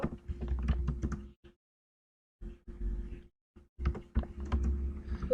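Rapid keystrokes on a computer keyboard as an intro is typed, arriving in quick bursts separated by a couple of silent pauses, close and clear with no talking.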